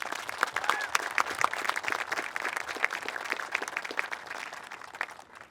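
An audience applauds to welcome a speaker to the podium at a dedication event, with a steady crowd of many hands clapping throughout that fades near the end.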